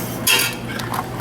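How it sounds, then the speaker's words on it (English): A spoon scrapes and clinks against the inside of a metal pot of crawfish stew in a few quick stirring strokes, close and fairly loud. "You have to stir it and stir it and stir it."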